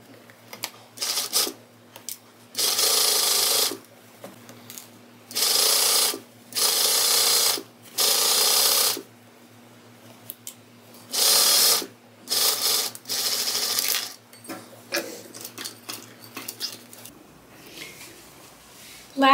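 A sewing machine stitches a pant waistband in repeated bursts of one to two seconds separated by pauses, with faint handling noises and a low hum in between, no talk.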